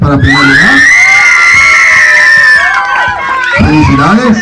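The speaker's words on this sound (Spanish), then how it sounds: "Aplausos para primer lugar." Loud crowd noise at a clown show as the audience cheers a first-place winner, with children shouting, whooping and screaming in a bright, excited swell that dips briefly and then rises again.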